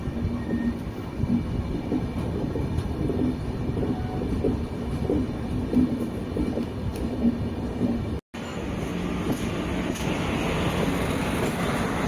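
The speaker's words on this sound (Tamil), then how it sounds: "நம்ம ட்ரெயின் பார்த்தீங்கன்னா 110ல் தான் போயிட்டுருக்கு." Inside the Puducherry–Yesvantpur Express as it runs at 110 km/h, a continuous loud rumble and rattle of the carriage carries on throughout, with faint rhythmic wheel clacks and a brief dropout midway.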